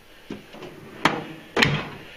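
A drawer on a Harbor Freight metal service cart slides and bumps shut, several short knocks and sharper clacks within two seconds, close and fairly loud in a quiet room.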